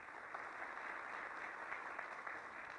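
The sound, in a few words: audience applause welcoming forum attendees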